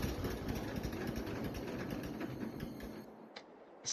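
A John Deere Johnny Popper tractor engine runs with a steady low chug and then cuts out near the end, leaving a brief quiet before a faint clatter.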